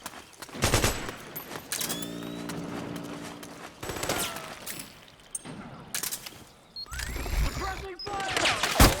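Bursts of automatic gunfire from the Metal Gear Solid 4 video game, several loud volleys separated by quieter gaps, with shouted voices and battlefield effects between the shots.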